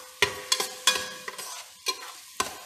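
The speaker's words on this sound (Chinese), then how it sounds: "把你的蒜头呢跟它爆香起来" Garlic stir-fried in a little oil for pork ribs: a low frying hiss broken by several sharp spatula strikes and scrapes against the pan, irregularly spaced and close by.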